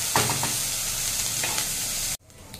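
Capsicum and beans frying in a pan for tricolour rice, a steady close sizzle with a few stirring scrapes, cutting off abruptly near the end.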